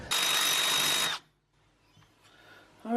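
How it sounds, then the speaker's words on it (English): A power drill whines loudly for about a second while boring a hole through a car body, then cuts out, leaving quiet shuffling and a faint clank afterward. "I worked out the best spot, so I've drilled a hole."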